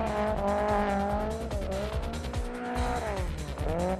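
A drift car at the 2006 Drift Total GP festival in Honjo, Saitama, slides through the main corner under braking. Its engine roars loudly and steadily while tires squeal continuously, with no voices.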